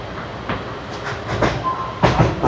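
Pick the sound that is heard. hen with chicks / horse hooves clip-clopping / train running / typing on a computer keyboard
train running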